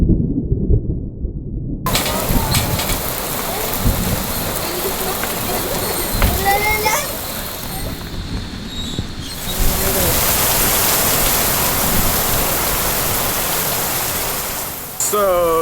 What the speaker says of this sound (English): I don't know if we can get this interview because the rain is so loud